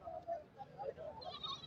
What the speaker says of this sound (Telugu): మేకపోతులు ఉన్నాయండి